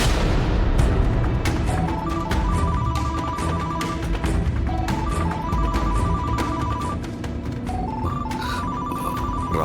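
A telephone ringtone repeats a looping melodic pattern again and again over steady background noise, playing loud and continuous for several cycles.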